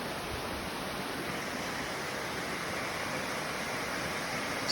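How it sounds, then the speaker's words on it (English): A waterfall in Far North Queensland, Australia, recorded from the top of the falls, gives a steady, full rushing roar of falling water that stays close and constant throughout, with no voices. "Standing on top of a waterfall."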